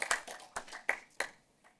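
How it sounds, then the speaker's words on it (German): A few scattered claps ring out in a cinema during a film talk, around five distinct hand claps at an uneven pace that fade away, sparse and fairly quiet. "verdient auch nochmal einen Applaus"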